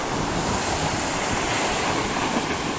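Ocean surf breaks continuously on a beach at Chincoteague, a loud, dense wash of rushing water with wind buffeting the microphone throughout.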